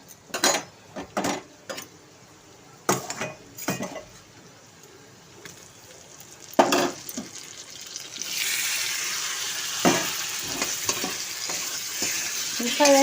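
Spicy pre-cooked chicken is stirred and fried in a pan. Sharp scraping and clattering stir strokes come first, then the sizzle swells into a steady, close frying hiss, with more scrapes on top.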